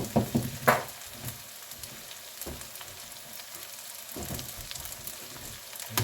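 Eggs frying in a pan with red potatoes, onions and mild sausage give a steady close sizzle, broken by a few sharp clatters and scrapes early on as they are mixed in, then softer stirring bursts.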